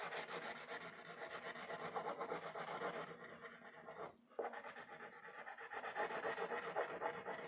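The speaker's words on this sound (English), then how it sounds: "Now we will use a brown crayon." A brown crayon rubbed back and forth on paper while colouring makes a close, scratchy, rhythmic rasping that runs steadily, stopping briefly midway before resuming, with no speech.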